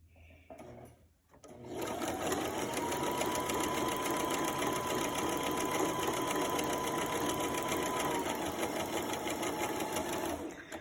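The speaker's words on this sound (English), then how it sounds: "Go to the machine and do your zigzag." An electric sewing machine runs steadily, stitching a zigzag seam along one on-grain edge of a fabric piece; the motor hum is continuous and close for about nine seconds after a short quiet start.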